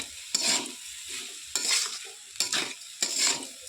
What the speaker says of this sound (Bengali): এবার আর একটু ভালো করে ভেজে নেব।